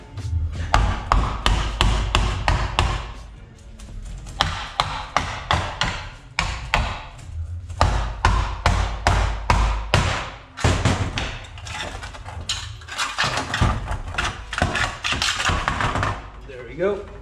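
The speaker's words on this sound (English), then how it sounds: "we're just gonna tap it with a hammer" A hammer taps the dust shield off the rear axle of a BMW E28 being restored. Many sharp metallic strikes land close by in rapid bursts separated by short pauses, with someone talking between them.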